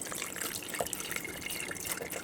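Warm water trickles and drips steadily into crab paste while the juice is strained, a soft, continuous close-up watery sound with no voices.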